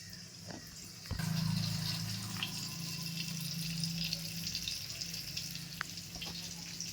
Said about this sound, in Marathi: आता मी मासे तळून घेते.